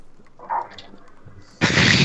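A loud, sudden blast erupts after a short stretch of quieter game noise and rumbles on without fading, in Garry's Mod roleplay.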